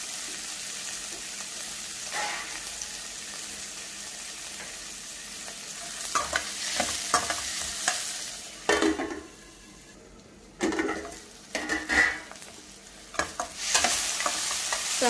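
Tomatoes stirred and frying in a pan for a green chilli brinjal dish, with repeated scraping strokes and a steady low sizzle, plus occasional utensil clinks against the pan.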